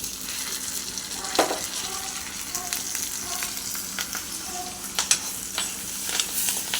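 Prawns fry in oil with curry leaves and green chillies, a strong steady sizzle broken by scattered sharp pops and crackles, close and loud with no talking.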